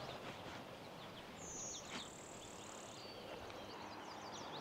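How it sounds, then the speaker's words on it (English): Several warblers, including yellow, prairie and blue-winged warblers, sing high, thin phrases in open woodland, distant and soft over a steady background of insect buzz. "I'm hearing yellow warbler, prairie warbler, blue-winged warbler maybe"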